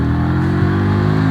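A Keeway V302C V-twin motorcycle engine revs loud and close as the throttle is flicked, a steady harmonic drone rising slightly in pitch with no talk over it.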